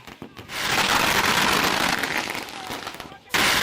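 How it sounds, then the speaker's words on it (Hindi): Dense, continuous crackle and bangs of fireworks set off by supporters celebrating an election win, loud and sustained, with a sharp burst near the end. "जीत के बाद इन समर्थकों ने जमकर आतिशबाजी कर खुशी मनाई।"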